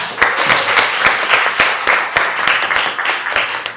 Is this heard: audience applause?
yes